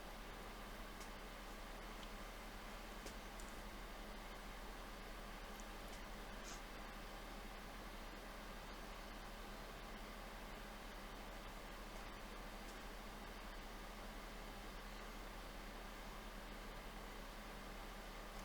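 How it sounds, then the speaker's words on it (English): A computer fan runs indoors with a steady, faint, even whir and hiss, unbroken throughout and with no other sound over it. "If you hear a fan in the background, it's my computer"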